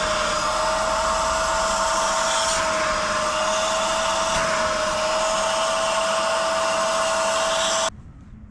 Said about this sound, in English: I'm going to use the world's noisiest wet vac to suck it all out